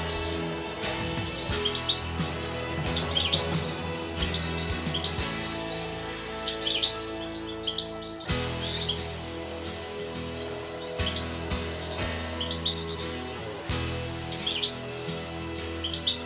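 A goldfinch, the British breeding resident, sings a bright, twittering song of rapid chirps and tinkling trills, loud and close, over a low continuous background hum.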